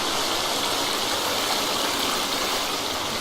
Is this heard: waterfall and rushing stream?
yes